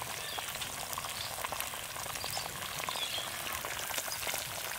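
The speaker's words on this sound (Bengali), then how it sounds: "ডিম তেলের মধ্যে একাই চলে যাচ্ছে" Eggs fry in hot oil with a dense, steady sizzle and crackle that stays loud and even throughout, with no talking over it.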